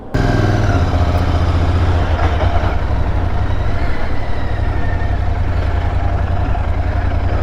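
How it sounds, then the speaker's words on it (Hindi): A motorcycle with a flag fitted rides along near the Gujarat coast after rain, its engine droning loud and steady throughout with no breaks. "और चलाते हैं जी बाइक को।"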